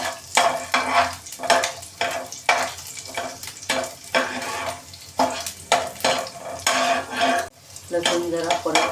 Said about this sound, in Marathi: आणि आता आपण घालूया लसूण आणि आलं घातलं. आणि आपण थोडंसं तुपामध्ये असं थोडंसं